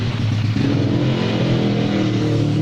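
A 4-stroke grass cutter engine idles on a test run, filled with tricycle engine oil, putting out a steady, close mechanical drone with an even buzzing tone and no talk.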